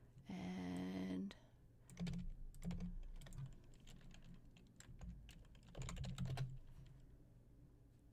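Fingers type a name on a computer keyboard in short bursts of quick, light key clicks separated by pauses, fairly faint and close, with no talking.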